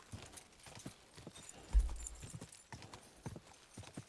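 Horse hooves galloping in the medieval video game Kingdom Come Deliverance 2: a quick, steady clip-clop of hoofbeats, moderately close, running alone under a soft background with no talk.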